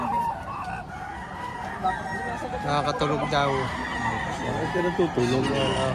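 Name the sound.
roosters crowing and clucking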